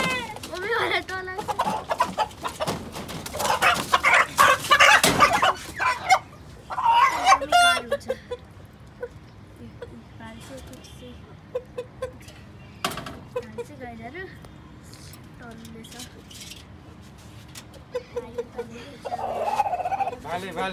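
A rooster clucks and squawks in agitated bursts while carried by hand at a Gurung family kul puja, loud at first then in scattered clucks among footsteps and handling noise, with people talking nearby.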